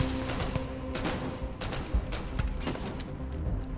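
Gunfire in the sci-fi video game Starfield, a rapid string of sharp shots and bursts in a steady fusillade at moderate loudness, with no voices.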